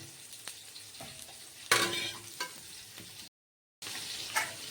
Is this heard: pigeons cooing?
no